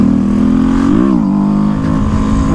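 Honda CB 300F motorcycle revving hard in second gear for a wheelie, a steady loud close engine drone that swells and dips briefly mid-clip before holding high.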